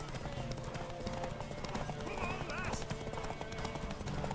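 In The Witcher 3, a horse gallops with rapid, continuous clip-clop hoofbeats alongside game music and ambience, over a brief whinny, with voices speaking over it.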